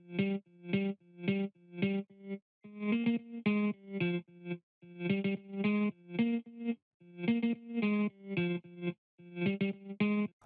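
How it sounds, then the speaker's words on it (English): A rhythmic Amapiano guitar melody from the Ampu Guitar SC plugin, processed with chorus and distortion, plays in short repeating plucked phrases separated by brief gaps, clear and steady over about ten seconds with no voices. "the original plugin that we used in playing this sound is called the Ampu Guitar SC"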